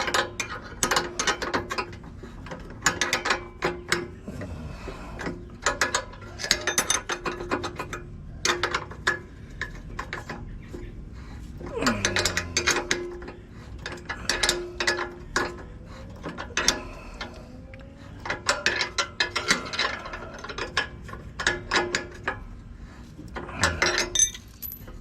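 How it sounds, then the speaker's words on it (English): A ratchet wrench tightens a bolt on a John Deere LA105 riding mower, its clicking pawl sounding in repeated close bursts with short pauses between them, alongside occasional clanks of metal. "Yeah, it's easier with a ratchet."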